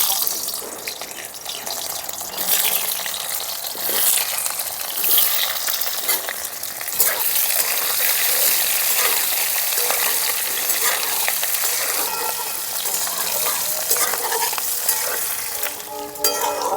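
Boiled, peeled small red potatoes frying in a pan give a loud, continuous sizzle with occasional stirring and scraping throughout.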